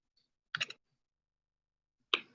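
Wire cutters snip jewelry wire for wire-wrapped agate earrings, three quiet crisp clicks in the near field, a close pair followed by a single cut after a pause.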